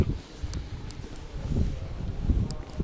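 Low, gusty wind rumbles steadily outdoors in Florence, Italy, near the Uffizi, with buffeting bursts like breezes hitting a microphone and a few faint ticking sounds in the background.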